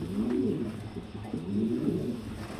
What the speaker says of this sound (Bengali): একটু লড়া দিই কবুতরটা